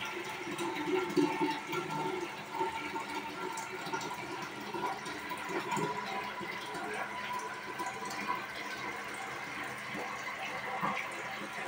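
Water runs continuously into a container, a steady close rush with faint gurgling that holds without pause.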